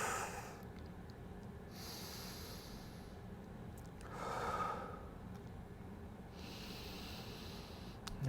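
Slow, deliberate breaths drawn in and let out during a seated 90/90 hip external rotation stretch, one longer audible exhale standing out midway, close and soft, with no talking.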